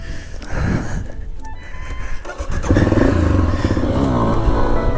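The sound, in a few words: Honda CRF250F dirt bike riding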